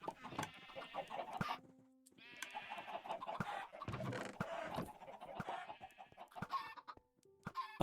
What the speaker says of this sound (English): chicken farm up here actually works